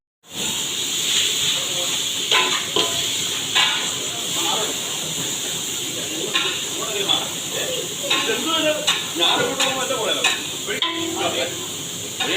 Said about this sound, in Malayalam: കറിവേപ്പിലയും കടുകും പച്ചമുളകും ഒക്കെ ഇട്ട് ഇളക്കി കൊടുക്കുന്നുണ്ട്.